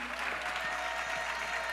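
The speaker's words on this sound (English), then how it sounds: "Round of applause to you." A brief burst of steady crowd clapping at a town-hall panel discussion on building Black wealth, dense and even for under two seconds.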